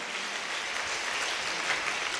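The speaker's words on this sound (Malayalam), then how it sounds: "നന്നായിട്ടൊന്ന് കൈയടിച്ച് കർത്താവിനെ മഹത്വപ്പെടുത്ത്" A church congregation clapping together to praise the Lord during a Christian talk, a steady moderate wash of hands heard somewhat distant and fairly soft across the brief clip.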